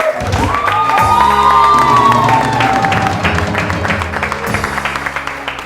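A TV morning show studio audience cheers and claps loudly, shouts and whoops rising over dense applause that keeps going throughout.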